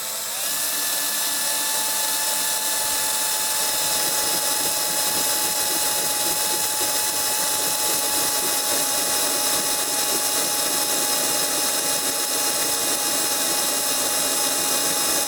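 A neck turning lathe taking a heavy cut on cartridge case necks, giving a steady whirring, grinding mechanical drone with a faint tonal whine, loud and continuous.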